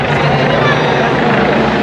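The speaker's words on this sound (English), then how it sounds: "Choppers above heads." Helicopters fly low overhead during a Day of the Dead parade in Mexico City, a loud, steady rotor roar with throbbing blade chop that fills the whole moment without a break.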